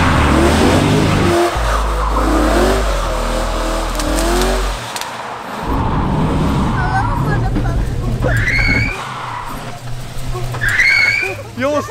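A Ford Mustang accelerates hard with its tires squealing and skidding, the engine roaring loudly and close, while people talk over it.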